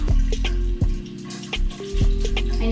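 Running tap water splashes and drips during a face rinse, steady and close, with a few sharper splashes as hands cup water to the skin, no talking.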